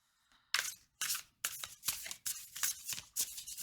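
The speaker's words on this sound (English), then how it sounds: "let me just give these a quick shuffle for Virgo. We'll get the tarot out." Tarot cards are shuffled close up after a brief quiet start, a series of quick papery riffles and flicks in an uneven rhythm, soft and intimate.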